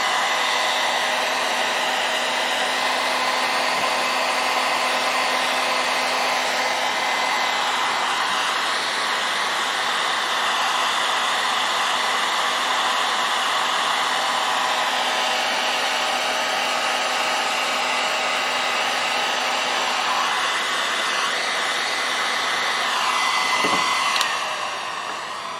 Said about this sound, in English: I'll put that heat gun out of the way because it gets hot and it stays hot